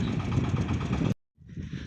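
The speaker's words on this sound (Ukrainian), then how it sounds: "Тракторець гарно робить земельку, пухкенька, вона волога" The small engine of a walk-behind tractor tilling moist, loose garden soil runs with a steady, loud, close rumble. It cuts out abruptly, goes briefly silent, then returns more faintly.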